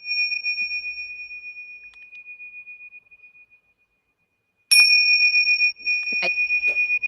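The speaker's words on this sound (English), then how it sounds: "And you've got bells." Small bells ringing during a sound healing session: a sustained pure ringing tone that slowly fades, then a bright struck bell strike with shimmering overtones, followed by a few softer taps as the ringing continues.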